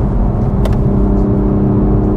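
Toyota Yaris GR engine pulling under acceleration on a road with stock Michelin tyres, a steady loud drone with a constant pitch, no speech.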